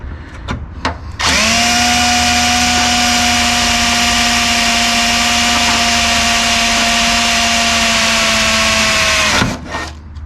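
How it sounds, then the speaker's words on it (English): A power drill bores a pilot hole for a transmission cooler install, spinning up sharply after a couple of brief starts into a loud, close, steady whine with a slight pitch droop, then stopping abruptly. "So I'm going to drill"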